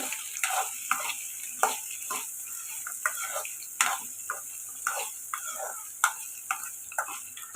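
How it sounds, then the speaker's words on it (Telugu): Cumin seeds, garlic and spices fry in a pan, with a continuous sizzle under rhythmic, repeated scraping strokes of a stirring spoon at a close, moderate level. "జీలకర్ర ఇవన్నీ ఫ్రై చేసుకున్నామండి"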